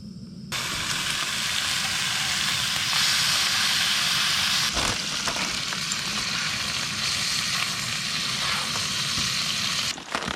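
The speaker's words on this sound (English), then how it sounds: "I'm just gonna fry up a couple pieces of bacon" Bacon pieces sizzle and spit in a frying pan over an ice-camp fire, a steady loud hiss with faint crackles and pops running nearly unbroken throughout.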